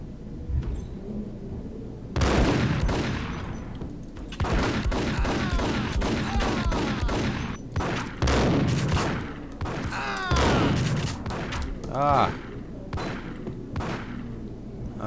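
Gunfire from the Max Payne video game comes in dense bursts of rapid shots and impacts, with a few short gaps between volleys, loud and close, and no clear talking over it.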